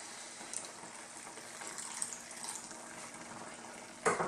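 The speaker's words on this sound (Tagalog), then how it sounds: "magdadagdag tayo ng konting tubig." Water poured into a cooking pot of sardine, misua and patola soup, a steady splashing wash throughout with a louder gush near the end, no talking.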